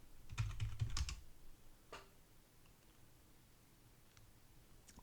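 Computer keyboard typing commands, a quick burst of clustered key clicks followed by a few sparse, faint taps over quiet room hiss.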